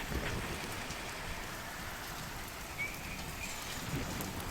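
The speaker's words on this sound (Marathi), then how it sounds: "तर ठिकठिकाणी अवकाळी पाऊस पडतोय" Steady unseasonal rain falling continuously in Maharashtra, a dense even hiss with low rumbling underneath, no voices.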